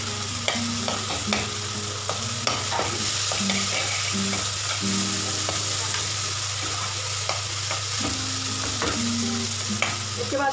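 Tomatoes being mashed with butter in a frying pan, with steady sizzling and repeated scraping and stirring strokes of a utensil against the pan, close and continuous with no talk.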